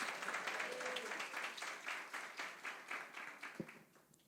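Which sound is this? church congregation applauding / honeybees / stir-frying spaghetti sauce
church congregation applauding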